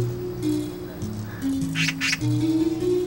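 A magpie gives a few harsh, raspy squawks against a background of voices and a low, steady hum.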